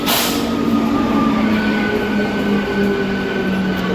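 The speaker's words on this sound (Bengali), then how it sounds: "একদম এসে বসলাম আর ট্রেন চলে আসলো" Train arriving at a station rolls in with a loud, steady rumble of wheels on rails and a drawn-out metallic squeal, heard close by.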